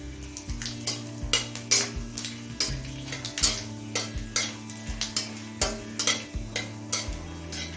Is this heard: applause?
no